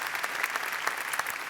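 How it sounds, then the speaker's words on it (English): Audience applause fills a keynote hall at a talent conference: a dense, steady patter of many hands clapping at once, sustained evenly for the whole moment with no voices over it. "A round of applause for Melissa, please."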